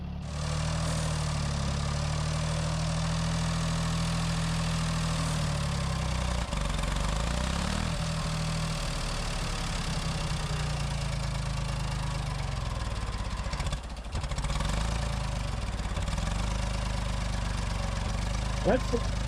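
An old abandoned tractor's engine runs at a steady, rough idle, a continuous low rumble with slight knocking that holds throughout, with a brief dip near the middle.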